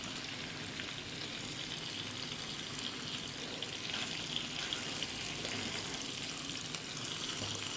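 Pieces of fish for a fish curry fry in a pan, giving a steady, quiet, even sizzle with faint spattering and no talk.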